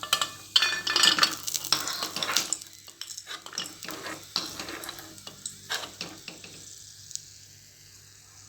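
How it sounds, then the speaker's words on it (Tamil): Nuts frying in a pan for jackfruit halwa, with a soft sizzle under repeated scraping and clinking of a metal spoon as they are stirred, the activity busy at first then thinning out. "இப்போ நட்ஸ் நல்லா ஃப்ரை ஆயிடுச்சு,"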